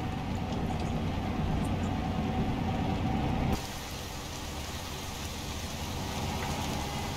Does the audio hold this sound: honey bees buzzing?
no